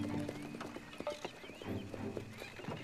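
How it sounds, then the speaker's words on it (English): Hooves of trotting horses clip-clop unevenly on hard ground, close by, with a horse whinnying softly and some faint background noise. "You unhitch the horses, Samuel."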